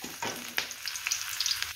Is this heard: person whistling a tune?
no